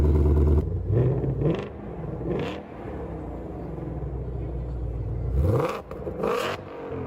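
A 2020 Ford Mustang Shelby GT500 engine revs loudly and close, with rising throttle blips and a steady deep rumble between them, heard alone.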